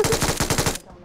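A rapid automatic burst of video-game gunfire rattles out loud and close, then cuts off abruptly.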